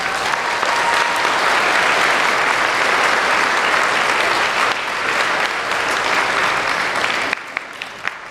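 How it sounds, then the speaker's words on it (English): Sustained audience applause fills the room at an annual honoring and cultural celebration. It stays loud and dense for about seven seconds, then drops off sharply near the end to a few scattered claps. "Can we all come together to give a big round of applause for Denise?"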